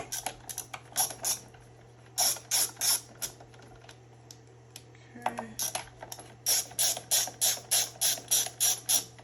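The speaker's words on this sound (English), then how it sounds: "So at this point we've removed 4 screws, 2 per each side." Screws are backed out of the battery compartment of a Onewheel Pint X electric board, heard as close bursts of rapid ratcheting clicks from a hand tool, separated by short pauses and faint handling noises over a low hum.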